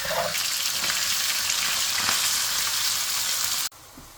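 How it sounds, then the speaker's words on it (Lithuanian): Minced beef sizzles loudly in heated oil inside a Xiaomi smart multifunctional rice cooker, a dense, even frying hiss close up that cuts off abruptly near the end. "dedu mėsą į kaitintą aliejų"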